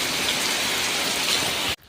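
Dense, steady rain pours down close by, a constant wash of drops that cuts off abruptly at the end.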